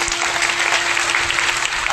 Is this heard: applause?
yes